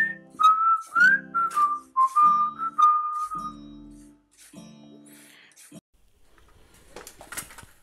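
A MIDI guitar built from LEGO plays a short melody through an acoustic-style synth voice: clear, whistle-like sustained notes in quick phrases that fade out, followed by a few faint clicks.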